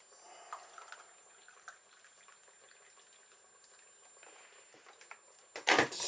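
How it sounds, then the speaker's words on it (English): Hot water poured into a cup to make tea, a faint, thin trickle with small splashy bursts before a louder, brief clatter near the end. "you can add your hot water to this and it will bring a perfect cup of tea"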